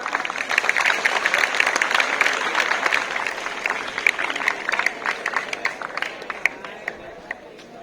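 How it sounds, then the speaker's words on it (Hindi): School students clapping loudly in a dense, sustained round of applause at a Teachers' Day celebration, steady and crowded, fading slightly toward the end with a few voices mixed in. "जोरदार तालियां बेटा।"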